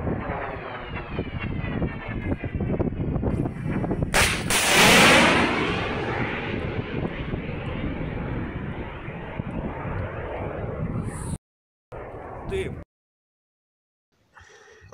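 A loud, roaring rush like a jet or missile passing overhead as anti-aircraft fire shoots down a Kh-101 cruise missile over Kyiv region, with a sharp blast partway through, wind buffeting, then abrupt cuts to silence.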